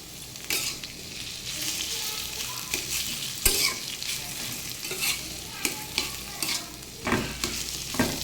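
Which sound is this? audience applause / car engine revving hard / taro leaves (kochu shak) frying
taro leaves (kochu shak) frying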